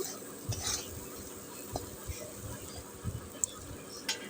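Vegetables being stirred in a pan, just before curry broth is poured in: soft scraping and light clinks of a spoon against the pan over a faint sizzle, with a few sharper knocks scattered across the clip.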